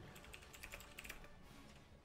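Rapid typing on a computer keyboard, a steady patter of key clicks with a few sharper taps, fairly faint and close, no voices.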